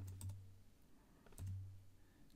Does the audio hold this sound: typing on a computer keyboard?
yes